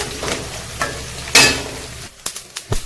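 Curry leaves fry in hot oil for masala idli, a sizzling crackle with a sharp burst midway and a few spoon scrapes and stirs near the end, close and fairly loud, with no talking.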